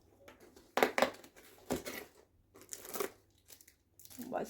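A plastic wrapper around mini chocolate rolls is crinkled and tugged open in several sharp, close bursts with pauses between them, and a voice speaks briefly amid the crackling.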